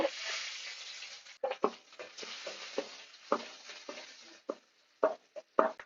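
A chopped large onion sizzles and crackles in hot oil for a South Indian kuzhambu, with a steady fry hiss broken by scraping stirs and clattering utensil knocks against the pan.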